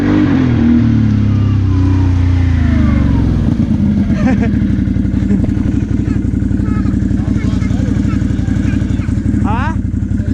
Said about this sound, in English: It sounds better when you're on the gas.